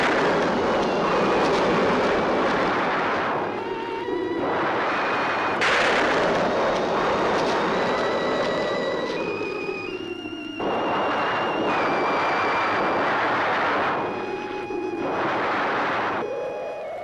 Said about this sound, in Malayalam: ഇടിയും മഴയും വരണുണ്ട്